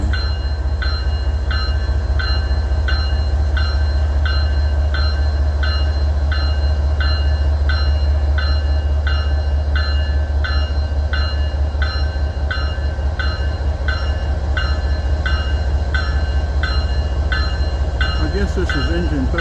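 A CSX freight train creeps slowly past at Resaca, Georgia, with a deep steady rumble and evenly spaced metallic wheel clicks repeating throughout, loud and near.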